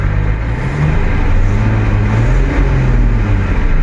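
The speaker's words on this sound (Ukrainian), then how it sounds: "Тут шестициліндровий мотор, і ось так він у нас працює." The six-cylinder engine of a 21-metre tow truck idles with a loud, steady low rumble, its pitch wavering slightly as it runs alone without talk.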